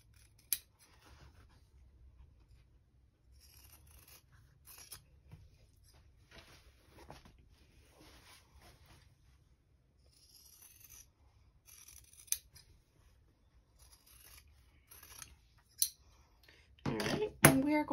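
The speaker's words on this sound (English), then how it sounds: "I'll snip until they intersect, and I'll cut those scraps off." Scissors snip through the fabric corners of a tote bag: sparse, quiet, close clicks and cuts spread over a long stretch, ending in a louder rustle of handled fabric.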